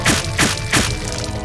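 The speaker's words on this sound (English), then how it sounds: "you didn't need to go stabbing him like crazy" Repeated blade stabs from the Hakuoki: Kyoto Winds video game land as three heavy, wet thuds about a third of a second apart, loud and close over a steady tonal game backdrop.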